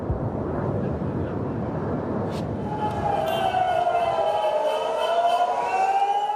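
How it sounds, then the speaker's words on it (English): An air raid siren wails across Israel during an Iranian ballistic missile attack, its steady rising tone emerging over a roaring rumble and holding loud to the end. "As sirens sounded across the country"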